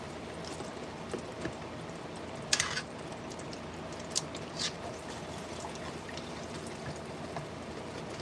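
Cooking oil is poured for a fish fry, giving a soft continuous trickling stream at moderate level, with a few brief clinks and no talking.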